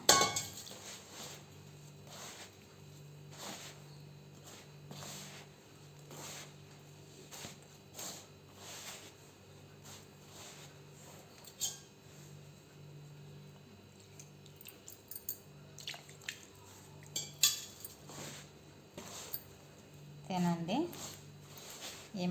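Dough being mixed by hand in a bowl for a Telugu pittu recipe, with soft rhythmic squishing and light clinks of the bowl repeating steadily while someone talks over it.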